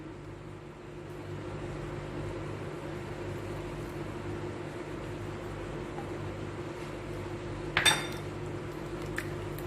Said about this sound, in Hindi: अच्छे से चलाएंगे इसको, लगातार चलाते रहेंगे